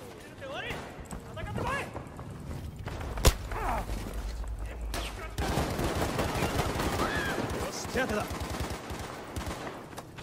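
Enemy gunfire during a Battlefield V Conquest match on Iwo Jima, with scattered shots and one sharp loud crack amid a busy battlefield mix, heard under ongoing talk.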